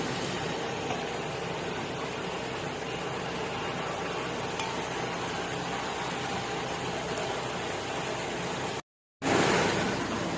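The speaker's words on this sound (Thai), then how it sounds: "เป็นเสียงเครื่องปั๊มนะครับ" Steady mechanical droning of a running water pump, constant and unchanging, with a short gap of silence near the end.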